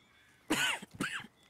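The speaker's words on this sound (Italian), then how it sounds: "Che brutta tosse." Two rough, wet coughs in quick succession from a sick character in Red Dead Redemption 2, close and fairly loud, with a raspy throaty quality.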